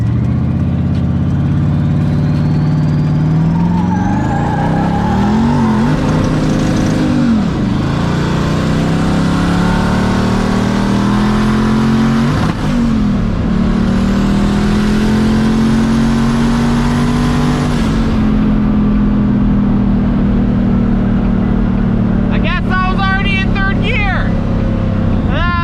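An LS-swapped Foxbody's V8 engine drones steadily close by, rising and falling through several revs over a low idle, while someone talks over it throughout.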